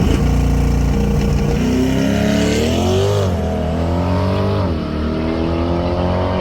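Launch of a 2024 Chevrolet Corvette E-Ray C8: a loud, continuous engine roar with rising pitch as it accelerates hard, heard from the roadside, briefly dipping near the middle before climbing again.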